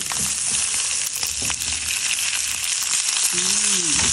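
String beans are tossed into a pan of browned frying pork for adobong sitaw, and the loud steady sizzle carries on with scraping stirs throughout.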